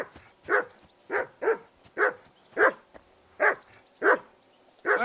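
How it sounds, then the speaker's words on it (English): A dog in the game Kingdom Come: Deliverance II barks repeatedly in a steady rhythm, about nine sharp barks spaced evenly, close and clear with no talk over them. "Henry, that barking's driving me nuts."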